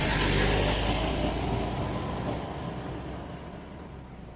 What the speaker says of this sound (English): That's a safari truck? It must be.